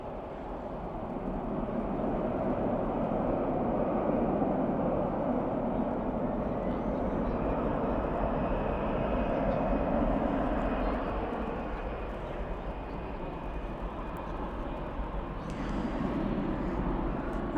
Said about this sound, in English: Spoilers up, reversers out on that A319.